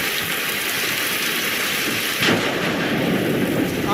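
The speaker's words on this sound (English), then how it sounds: "Boy, it's really raining hard." Heavy rain pours in a steady loud hiss while a burst of thunder cracks and rumbles about halfway through, with no voices.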